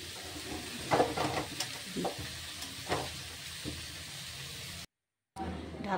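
Bathua greens frying in a pan are turned with a spatula, several soft scraping strokes over a steady close sizzle, broken by a brief cut to silence near the end.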